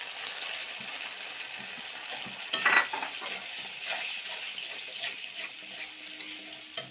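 Spices, salt and green chilli paste frying in hot oil in a pan, a continuous crackling sizzle with sharp spatters, including one loud burst early on, close by and with no talking.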